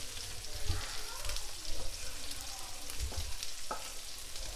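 A cream sauce of mozzarella, cream cheese and butter bubbles and sizzles steadily in a pan, and a utensil stirs and scrapes through it now and then. The sound is soft and continuous.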